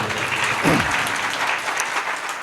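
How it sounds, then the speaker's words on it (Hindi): Audience applause at a gathering, steady and dense crowd clapping throughout, with a brief voice rising in the middle. "ताली बजा सकते हैं"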